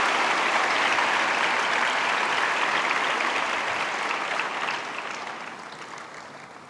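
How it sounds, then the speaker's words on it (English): Applause from a large audience at a university convocation ceremony, a dense sustained clapping that holds steady and then gradually thins and fades toward the end. "Please give a big round of applause for Deshabandhu Arvinda De Silva ji, who's c"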